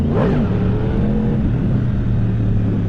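A 2016 Yamaha R1 motorcycle, lift control on, has its clutch popped in first gear: a sharp rising rev up front settles into a loud, steady engine drone, close up with no talking.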